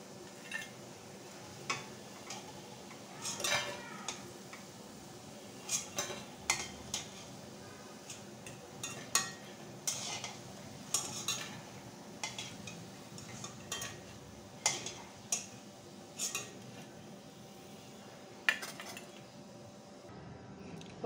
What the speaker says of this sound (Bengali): বন্ধুরা, ভাজা হয়ে গেছে, তুলে নেব।